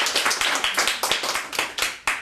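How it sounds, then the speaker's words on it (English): Audience clapping during a talk show interview, loud close hand claps in a quick uneven rhythm that fill the whole short stretch. "Clap. Everybody clap."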